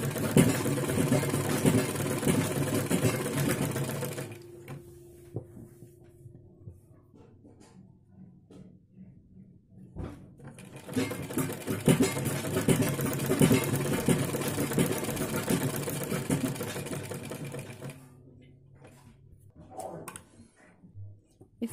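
A sewing machine runs straight stitching on a kurti's inner seam, its busy whirring coming in two long bursts with a quieter pause between, close and loud with no talk over it.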